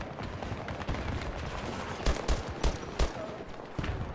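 Gunfire in the shooter game Battlefield 2042: a cluster of sharp, punchy shots cracks out in quick succession over a constant bed of battlefield noise, with a few more distant reports scattered around them.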